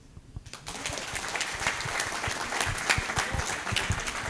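Audience applauding at an official book presentation, clapping that starts abruptly after a quiet moment and builds into a dense, lively patter of many hands, continuing steadily.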